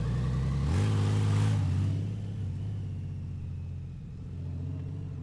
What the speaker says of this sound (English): What I'm doing here is I'm just getting a little warm up with the bike, right? Seeing how the turning is, also getting used to the throttle response